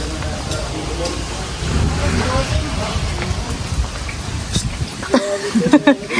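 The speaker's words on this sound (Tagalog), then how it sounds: "Ulan. Umuulan." Steady rain patters and hisses across a surface, with a few sharper knocks and clatters near the end; a voice speaks briefly under it.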